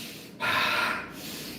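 A forceful exhale through the nose and mouth during a martial arts iron body press exercise, one close sharp rush of breath lasting under a second.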